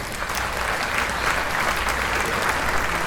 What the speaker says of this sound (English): Do I have applause ready?